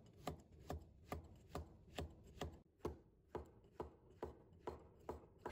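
A knife slices shiitake mushrooms on a cutting board, about a dozen soft, evenly spaced chops in a steady rhythm, close and quiet with nothing else heard.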